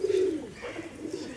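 A pair of imported magnet pigeons coos close by, one strong throaty coo at the start, then softer murmuring coos trailing off.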